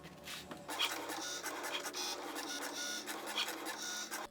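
A Cricut Maker cutting machine cuts Cricut basswood with quiet, repeated mechanical whirring and scraping passes, the carriage motor rising and falling in a steady rhythm at close range.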